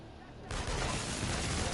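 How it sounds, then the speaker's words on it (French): Rapid machine gun fire from the PS4 game Infamous Second Son, a dense continuous burst of gunshots that starts abruptly and sustains loudly, with game sound mixed in. "alors là c'est une vraie mitraillette je crois les tirs avec R2 là"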